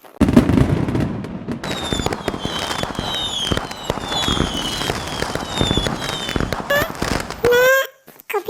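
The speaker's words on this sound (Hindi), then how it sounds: "दिवाली स्पेशल मैं ये आपके लिए पटाखा कंसर्ट लाई हूँ" A dense barrage of Diwali firecrackers bursting in rapid, overlapping pops and crackles, loud and continuous, with whistling rockets rising near the end before a sudden stop.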